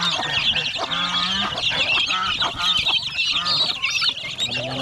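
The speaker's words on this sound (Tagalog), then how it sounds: "ito pabo yan, itong mga nandito pabo yung sisiyo na dala ng inahing manok" Turkey poults and chicks on a farm, with a hen that hatched them, make a dense, continuous chorus of shrill peeping and clucking, close and loud.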